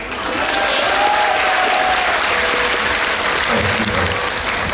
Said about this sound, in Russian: В цирке главное чудо – это, конечно, ваши аплодисменты.